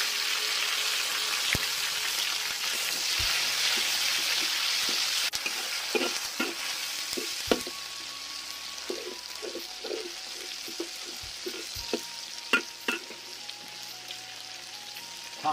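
Tomatoes, garlic and sour bamboo shoots sizzle in a wok on a rainy day, with a constant frying hiss punctuated by repeated scraping and clacking stirs of the spatula, close and clear.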